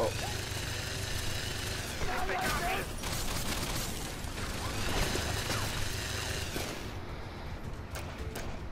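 Heavy gunfire rattles through a combat zone in the video game XCOM 2, with dense overlapping bursts and clattering mechanical clicks forming a loud, continuous barrage that thins briefly near the end.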